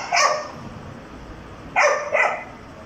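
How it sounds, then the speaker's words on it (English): A dog barks loudly nearby, one bark followed by a pause and then two more in quick succession, over a faint background hum. "The dog actually barking so loud."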